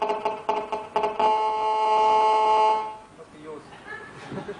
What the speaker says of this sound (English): Please turn off your cell phone.